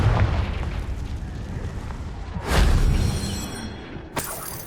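Confringo blasting spell in the Hogwarts Legacy video game, heard as a loud whooshing blast that swells into a booming rumble, followed by a second sharp burst near the end over dense game ambience.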